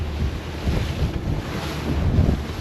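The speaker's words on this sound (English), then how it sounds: "I'm getting a little worried because the wind picked up a lot." Strong wind buffets the microphone on a boat crossing to Bimini in choppy water, a steady loud rumbling roar with surging gusts and no talking.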